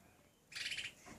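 A pet bird gives a short burst of bright, rapid chirps close by, after a quiet pause and alone, without talk over it.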